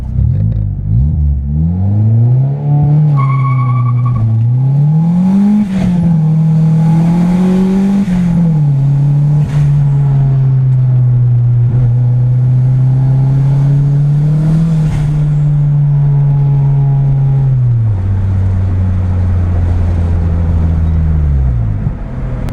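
A turbocharged Honda D16 engine runs a pull at about 16 psi of boost. The loud, close drone holds a high, slightly wavering pitch for a long stretch, then drops away near the end.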